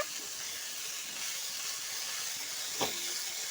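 Peas and coriander leaves frying in oil in a home kitchen give a steady, even hiss and sizzle, with one brief louder pop near the end and no talking.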